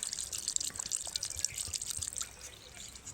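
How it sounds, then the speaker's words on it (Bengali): Water from a 1-litre bottle pours onto 500 g of rice, a steady, close trickling and splashing that runs throughout with no talk. "তো এখন 1 লিটার জল দিয়ে দেবো।"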